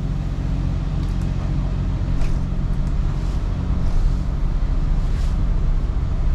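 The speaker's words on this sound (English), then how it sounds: "Engines are on." Twin Volvo IPS 500 diesel engines on a Cruisers 39 EC motor yacht run steadily at the dock, a dense low rumble holding at even loudness throughout with faint wind noise over the top.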